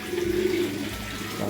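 Pigeons cooing inside a loft during a rainy season, a soft low continuous coo running steadily through the clip over faint background noise.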